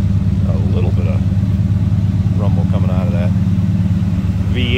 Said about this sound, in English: A little bit of rumble coming out of that V8 underneath the hood.